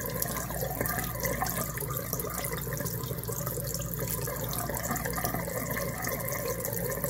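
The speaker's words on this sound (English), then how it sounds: "I'm gonna go upstairs here and I'm gonna turn on the water and let the water run" An upstairs bathroom sink tap on a house supplied by a well runs wide open, giving a steady, continuous splashing flow of water into the basin, close and unchanging, with no voices.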